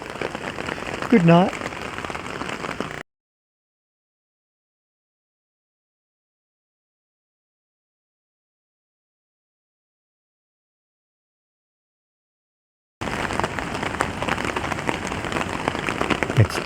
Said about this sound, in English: It's 2:30 in the morning and it's still raining.